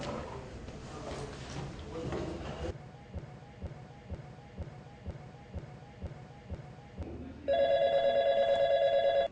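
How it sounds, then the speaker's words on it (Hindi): A telephone call placed by a police inspector in a crime drama: a series of regular muffled pulses like a ringback tone repeat evenly, then a bright electronic ring cuts in loudly near the end, after brief background noise. "चल समीर एक काम कर, शाक्य को फोन लगा।"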